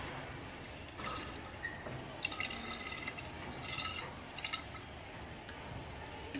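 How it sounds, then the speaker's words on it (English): Distilled water poured into a conical flask to make a solution up to 250 ml, heard as faint irregular trickling and dripping over a steady background hiss, with brief splashy bursts partway through. "total volume is made up to 250 ml by adding distilled water"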